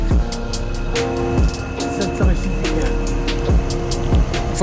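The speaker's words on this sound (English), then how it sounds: "I need to turn this engine off though" A car engine running at idle, a steady low hum with rhythmic pulsing surges roughly every second, close and fairly loud, with no talking over it.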